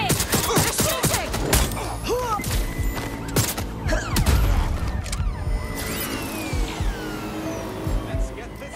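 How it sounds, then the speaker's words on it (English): Bursts of gunfire crackle through a chaotic Watch Dogs: Legion scene, mixed with roaring engines and mechanical clatter, with voices shouting over the continuous din. "They're shooting!"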